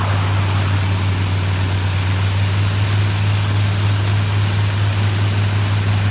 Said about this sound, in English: The famous Rolls-Royce V12 Merlin engine, of which the Lanc had 4